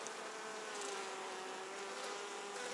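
Honeybees crawling over a queen cell in a hive give off a dense, continuous buzzing hum, close and steady throughout, with no voices.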